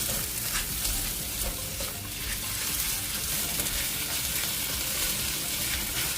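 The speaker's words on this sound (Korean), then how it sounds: "양파가 투명해지면 가지를 넣고 함께 볶아주세요." Eggplant stir-fried with garlic and onion in a pan of cooking oil and perilla oil sizzles in a thick, continuous hiss, with faint stirring scrapes underneath and no voices.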